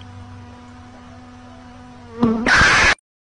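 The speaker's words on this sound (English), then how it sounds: "Oh, look at this little bee! He's so cute!" A cartoon bee buzzes softly for a couple of seconds, then a sudden louder, brighter buzz bursts in and cuts off abruptly.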